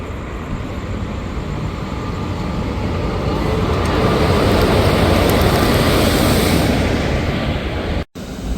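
A train rolls at a railway station on the way to Alappuzha, a loud, steady broadband rumble that swells toward the middle and then eases off, with no voices.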